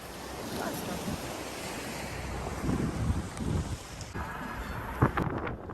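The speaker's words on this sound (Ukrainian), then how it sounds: "Порожні домініканські пляжі." Surf breaks and washes up on an empty Dominican beach, a continuous close roar of waves with wind buffeting the microphone and a few brief knocks near the end.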